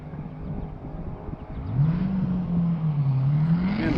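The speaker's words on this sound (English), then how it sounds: "And the Corvette is down and away." A Corvette launches from a standing start at a Summit Point track event, its engine note rising and climbing steadily into a sustained revving drone, heard at moderate distance over ambient track noise.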